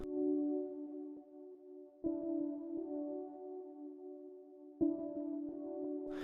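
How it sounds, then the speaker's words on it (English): A sustained synth pad chord in a pop punk beat swells and dips, sidechain-compressed to the kick, dropping sharply and recovering at two points, with no voices. "So now the pad sounds like this."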